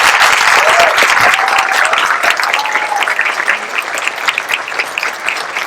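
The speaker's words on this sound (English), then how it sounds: "you guys really deserve a round of applause" Studio audience applauding team members at an Annecy 2025 animation studio presentation, a loud sustained wash of clapping that tapers slightly toward the end.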